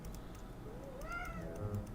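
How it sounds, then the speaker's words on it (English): A house cat gives a short, faint rising meow in the middle of a quiet room, followed by a softer trailing cry. "I don't know if you can hear her crying."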